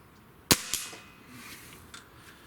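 Diana RWS 34P Pro Compact air rifle fired at targets outdoors: a single sharp, loud crack followed a moment later by a fainter impact snap, then quiet.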